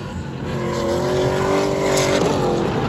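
A Mercury or Lincoln car at a drag race roars past with a loud, sustained engine note that rises in pitch, the sound steady and dense throughout.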